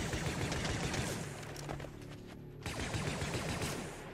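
Blaster gunfire in a Star Wars zombie horror video game: rapid, fairly faint bursts of shots that pause for a moment and then resume, with no talk.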